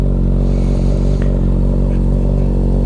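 Suzuki GSX-S1000 motorcycle with a full Dominator exhaust, no catalytic converters, a DNA air filter and an aggressive tune, idling loud and close with a steady, continuous low engine rumble throughout.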